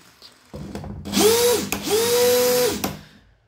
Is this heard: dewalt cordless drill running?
yes